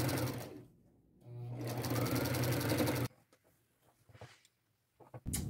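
A sewing machine runs in two loud, steady bursts of stitching, joining patchwork skirt pieces right sides together, with a short pause between and quieter handling afterward.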